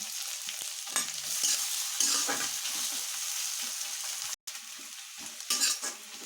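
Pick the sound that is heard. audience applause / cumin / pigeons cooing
cumin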